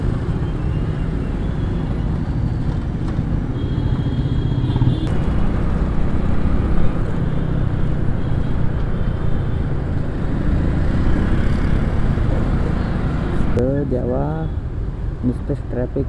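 Dense Pune road traffic rumbles steadily at a crowded signal, engines droning close by with a horn-like tone near the end, while someone talks over the noise.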